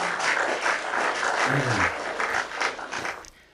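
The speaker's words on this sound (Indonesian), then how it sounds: "Kita kasih tepuk tangan dulu." A crowd applauds with steady, dense clapping that fades away at the end; a brief low voice murmurs partway through.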